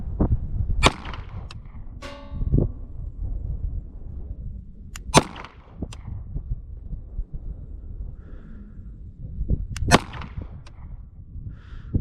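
A CZ P-09 pistol fires at a steel target outdoors, several sharp separate reports spaced seconds apart, each followed by a faint metallic ring from the target.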